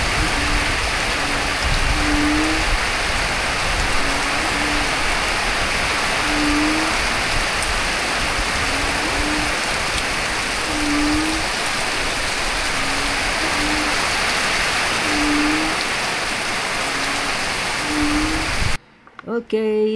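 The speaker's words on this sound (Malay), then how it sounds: "best hujan kami dekat kampung, sejuk je" Steady rain with strong wind hisses loudly and evenly throughout at a village, with a faint, regularly repeating low call in the background before the sound cuts off near the end.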